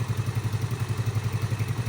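A Yamaha Fino scooter engine idles steadily nearby, a low rhythmic putter with even pulses and no revving.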